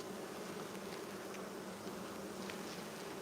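A steady, dense hum of many honeybees buzzing on a hive brood frame, continuous and close, with no voices.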